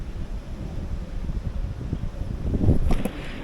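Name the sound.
strong wind outdoors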